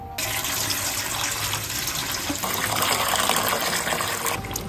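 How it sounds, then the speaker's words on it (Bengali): Tap water runs steadily as okra is washed under it, a loud continuous gushing and splashing, close by with no speech. "এইবার আমি ভেন্ডিগুলো একটু ভালো করে ধুয়ে নিচ্ছি।"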